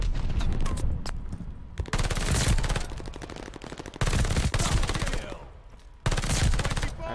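PPSh-41 submachine gun with a recoil booster firing in Call of Duty Vanguard, long rapid full-auto bursts separated by brief pauses, loud and close, with a voice speaking faintly between bursts.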